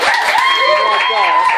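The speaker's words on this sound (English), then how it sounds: "You want a round of applause for everyone." Applause for performers in a pub, steady clapping blended with loud cheering voices and whoops throughout.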